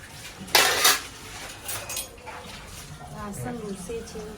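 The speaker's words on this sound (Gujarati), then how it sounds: "હજી વાસણ સાફ કરે છે" Dishes and utensils clink during late-evening dishwashing in a home kitchen, with a louder clatter near the start, then softer scattered knocks and rinsing under a voice talking.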